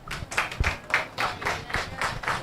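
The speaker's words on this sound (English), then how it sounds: "Please, clap her." Audience clapping at the Tourism Product Development Company office opening in Black River, St. Elizabeth, Jamaica, heard as a close, rhythmic series of roughly eight evenly spaced claps in a steady beat.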